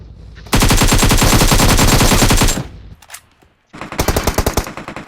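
Rapid automatic gunfire in a video game, a loud close burst of about two seconds that stops, followed after a short pause by another stuttering volley of shots.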